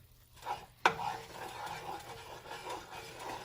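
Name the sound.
stirring gravy in a pan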